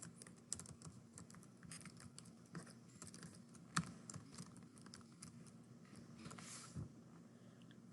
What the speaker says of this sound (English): this is where you would type in that Capital School District email